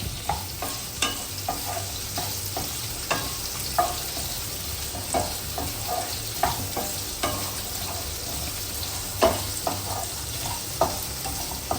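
Steam hisses out of a pressure cooker after boiling potatoes, a steady broadband rush flecked with crackles and small clicks, fairly close and with no voices.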